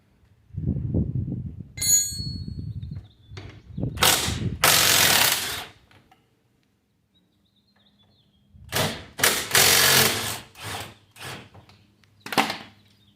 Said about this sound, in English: Alright, I'm going to remove the brake caliper.